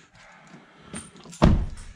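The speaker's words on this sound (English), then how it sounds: "Let's try the door lock actuator, huh? Oh, you hear that? It even sounds good." A replacement door lock actuator in a 2011-13 Ford F150 fires with a faint whir and then a sharp, close mechanical thunk near the end, with no talk over it.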